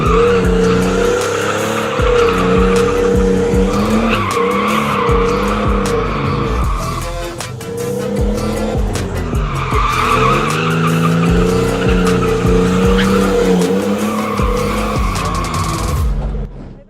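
A car drifts under handbrake as its engine revs hard and the tires squeal and skid for long stretches, loud and close, with a short dip in the middle before the skidding resumes.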